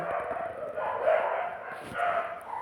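Dogs bark and yip repeatedly at a moderate distance, layered over a steady indoor hum and faint clatter.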